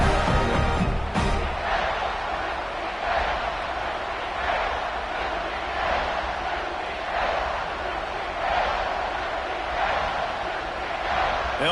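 A home crowd cheering at a football game after a touchdown puts their team up big, a broad, steady roar that swells in waves and fills the clip throughout.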